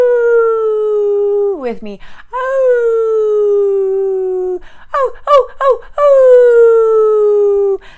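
A person imitates a wolf howling at the moon with long, loud, sustained wavering howls, voiced in several drawn-out calls with a brief broken, yelping passage in between.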